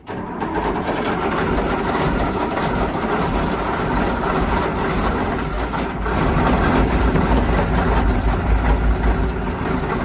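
An OT64 SKOT armoured car engine runs roughly and loud, a steady heavy rumble with a slight dip around the middle before picking back up, alone without talk.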